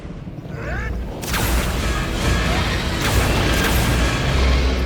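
A Confringo spell explodes in Hogwarts Legacy with a sharp burst that swells into a loud, sustained roaring blast and crackling rumble lasting several seconds.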